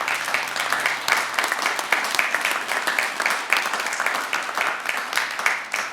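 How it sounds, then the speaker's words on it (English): A commencement crowd applauds President Jacobson with steady, full clapping from many hands, held at an even level throughout. "I think we should give her a special round of applause for that."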